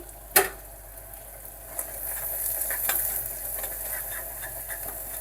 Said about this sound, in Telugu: పచ్చివాసన పోయేంత వరకు అయితే ఇలా కలుపుకోవాలి